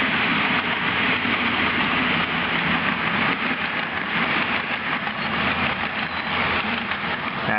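A model Class 47 locomotive rumbles steadily across the points on a ballasted model railway layout, a continuous close mechanical whir and rattle with no talking.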